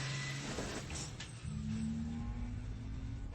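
A car engine hums steadily and rises in pitch as it accelerates, close up in a movie driving scene, with a faint rattle early on and no one speaking.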